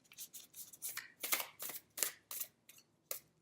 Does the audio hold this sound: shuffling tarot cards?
yes